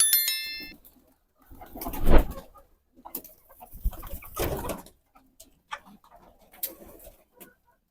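Pigeons coo and flutter in short bursts with quiet gaps between, close by as they enter their coop, a few soft clucking calls mixed in.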